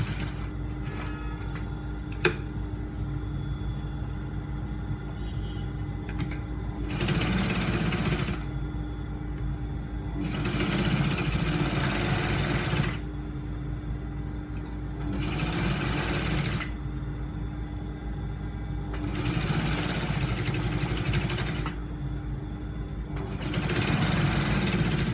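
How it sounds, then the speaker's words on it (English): An electric sewing machine stitches around the edges of a shirt collar in several separate bursts of buzzy whirring a few seconds long, with quieter gaps of background hum between them. "So after ironing the collar, I'm going to stitch it. Just going to stitch the edges around."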